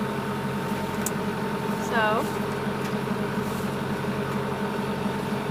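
A sailboat's inboard engine drones steadily at sea, a low constant hum running through the whole stretch, with a brief spoken word and a short whine partway through.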